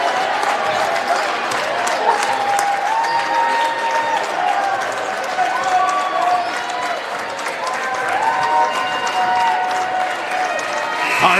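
A high school basketball crowd in Indiana roars and cheers from the stands as the Connersville–East Central game ends, a dense, continuous wash of noise with shouts and a few bouncing sneaker squeaks.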